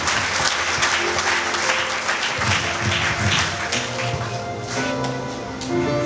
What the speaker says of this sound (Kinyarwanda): mwakumira Imana amashyi